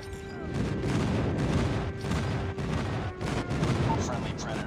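Airstrike explosions and gunfire in Call of Duty Mobile during a hardpoint match: repeated loud booms and bursts come in quick succession, with game voice callouts over them.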